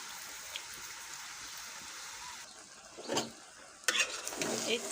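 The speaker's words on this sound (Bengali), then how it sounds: "মশলাটা কষানো হয়ে গেছে, এখন আমি এই পুঁই শাকগুলো ছেড়ে দিলাম।" Malabar spinach goes into a pan of fried-down spices, giving a steady soft sizzle with louder stirring scrapes and crackles toward the end, no talk.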